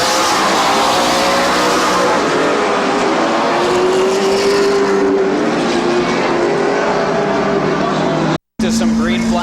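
Race cars under green-flag racing at Midvale Speedway, a dense, continuous roar of several engines droning loudly around the oval with slowly shifting pitch, while an announcer talks over the noise.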